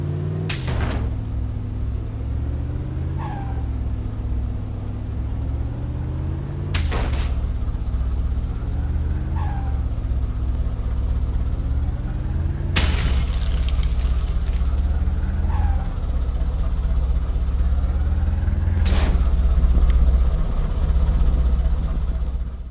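A damaged car engine in a survival video game under development drones roughly and sputters while driving, revving and rising in pitch, interrupted by several loud bangs and clunks; no talking.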